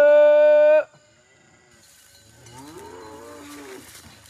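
Cattle moo on a farm: one loud, close, sustained moo at the start, a pause, then a second, fainter moo from farther away.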